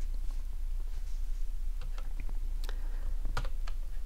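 Computer keyboard typing while writing code, scattered key clicks and a few sharper strokes at close range over a steady low hum, no talking.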